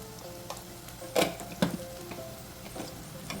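Turmeric and spices drop into hot oil for a potato and masoor lentil curry, giving a faint steady sizzle under a low hum, with two sharper stirring clatters near the middle and a few light taps.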